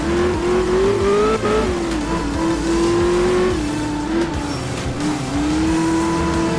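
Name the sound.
rally car sliding on gravel in the video game Art of Rally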